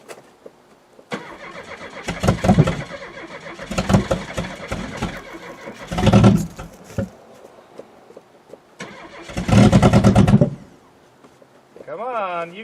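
An old Buick with an Iron Duke engine is cranked from cold in repeated loud churning attempts that catch briefly and fade, while a person talks between tries.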